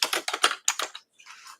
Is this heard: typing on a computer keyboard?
yes